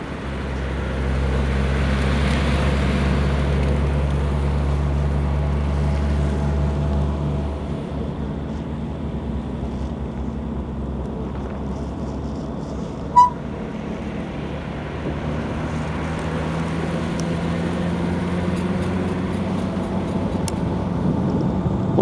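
A 1964 Jaguar E-Type Series 1 3.8L roadster drives with a low, steady engine rumble and wind rush in an open cockpit, easing off midway, then building again, with one sharp click.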